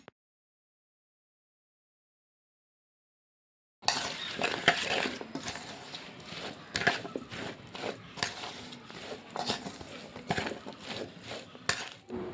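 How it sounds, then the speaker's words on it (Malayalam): Mango pickle being stirred with oil in a pot, starting after several seconds of silence, then a soft continuous scraping and mixing with occasional light clinks of a spoon against the pot, close and quiet. "എണ്ണ ഒഴിച്ച് കൊടുക്കുക എന്നിട്ട് നന്നായിട്ട് ഇളക്കിയെടുക്കുക"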